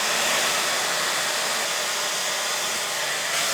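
A heat gun blows a loud, steady, close whoosh of hot air while warming a sticker on KTM motorcycle plastic, a constant hum with no break and no voices.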